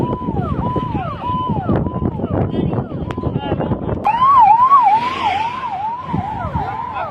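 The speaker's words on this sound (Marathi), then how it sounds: "अग्निशमन दलाची गाडी या ठिकाणी पोहोचलेली आहे" A loud fire engine siren wails, cycling up and down continuously, close by at a burning bus on the Kaij-Kalamb road, with engine and wind noise beneath it.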